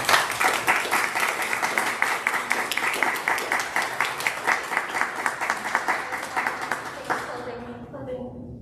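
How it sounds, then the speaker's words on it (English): Audience applause after a research talk, brisk clapping at full strength that holds steady, then thins out and fades in the last second or so. "then one more round of applause"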